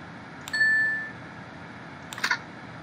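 Bell rings in the video game Progressbar 95, a bright single ding with a sustained ringing tone, followed about two seconds later by a second brief metallic chime, clear against a quiet background.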